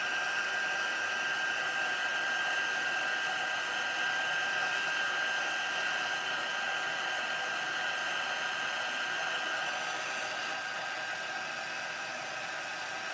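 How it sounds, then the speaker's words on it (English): A heat gun blows steadily to melt embossing powder on a card sentiment, a continuous loud whooshing hiss with a faint whine that holds nearly unchanged for the whole stretch, with no talking. "I love heat embossing sentiments."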